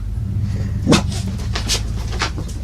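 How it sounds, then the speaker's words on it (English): Dogs barking nearby, a single sharp bark standing out over a steady low hum, with a few fainter yips or barks following across the short stretch. "Stupid dogs."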